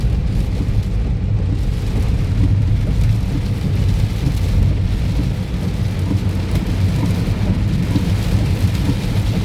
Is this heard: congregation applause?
no